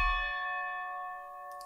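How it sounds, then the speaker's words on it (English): A single tubular bell strike from an orchestral film score rings with a clear, sustained metallic tone that slowly decays, alone and close. "different sounds, tubular bells,"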